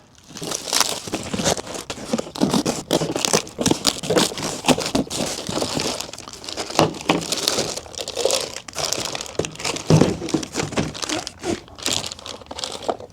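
A bubble-wrapped box being cut open and unwrapped, with continuous close, loud crinkling and crunching of plastic wrap and tearing for several seconds, no talking.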